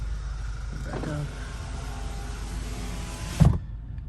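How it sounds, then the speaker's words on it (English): The power windows of a 2014 Audi A4 2.0T run back up with a faint electric motor whir, ending in a brief thunk as the glass seats, heard quietly inside the car. "All the windows work. They all went down."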